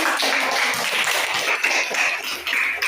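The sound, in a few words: clapping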